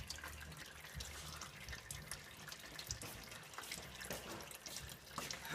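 Transmission fluid from a First Gen Cummins drains from the pan into a large catch pan, a steady close trickle and splash with scattered drips.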